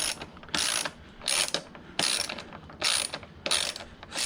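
A ratchet wrench clicks in five quick bursts, tightening bolts on a Kawasaki KLX250's FMF Q4 exhaust. Each rapid pawl rattle is close and crisp, with brief pauses between strokes.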